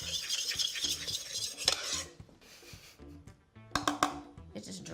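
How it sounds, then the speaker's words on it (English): Dry cookie ingredients, including salt, stirred in a bowl, giving a close scraping and clinking of a utensil against the bowl in uneven bursts, with brief pauses between. "Mix your dry ingredients."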